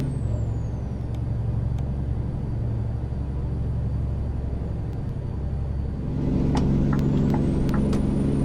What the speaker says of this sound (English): The truck sounds wonderful.